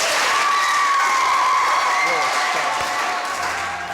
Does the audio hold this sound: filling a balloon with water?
no